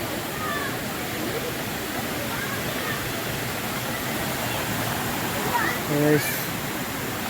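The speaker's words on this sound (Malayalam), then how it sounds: "ചെറിയൊരു വെള്ളച്ചാട്ടം" Small waterfall at Seethar Kund in Kollengode gives a steady, broadband rush of falling water that runs unbroken throughout, with a brief louder splash or surge near the end.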